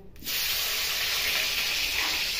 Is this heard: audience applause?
no